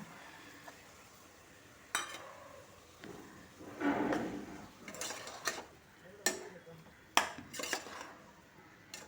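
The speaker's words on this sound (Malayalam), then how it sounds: "അരച്ചെടുത്ത് വച്ചിരിക്കുന്ന അരപ്പ് കൂടെ ചേർത്ത് ഇളക്കി കൊടുക്കാം" Ground spice paste stirred into a brinjal curry in a pressure cooker pot, a series of scraping, clinking spoon-against-metal strokes at an uneven pace, fairly quiet and close.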